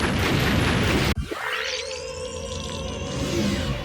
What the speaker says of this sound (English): Bomb will detonate.